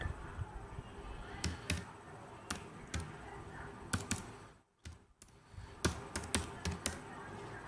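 Quiet, close tapping on a computer keyboard as a phrase goes into a search box, short clusters of clicks with a brief gap midway and faint room noise behind.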